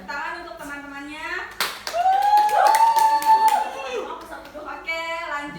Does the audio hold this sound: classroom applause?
yes